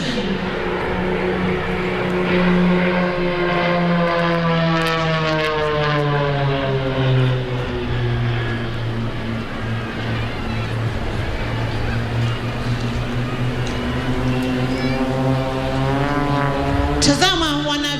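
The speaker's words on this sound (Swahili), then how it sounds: "ndege hizi zinaingia kwa umaridadi kwa pamoja" Airshow aircraft flying together in formation pass overhead with a loud, sustained propeller drone whose pitch slowly slides downward as they move past, steady for the whole stretch under crowd ambience.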